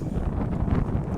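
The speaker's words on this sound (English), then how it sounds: "It's a very windy day yet again" Wind buffets the microphone in low, rumbling gusts on the Appalachian Trail in Virginia, a steady blustery roar throughout.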